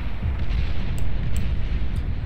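Bombing run in the strategy game Beyond All Reason, a dense, continuous rumble of overlapping deep explosions with a few sharper pops, loud throughout the short stretch.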